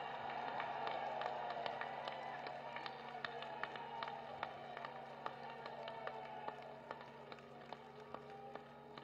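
Large crowd at an outdoor political rally in Bijnor clapping steadily and continuously, a dense sustained wash of applause with sharper individual claps popping out, no speech over it.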